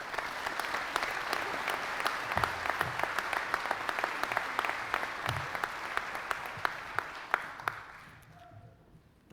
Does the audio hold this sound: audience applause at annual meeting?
yes